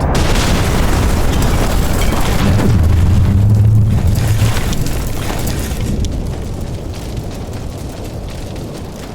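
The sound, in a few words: missile being fired and exploding, audio drama sound effect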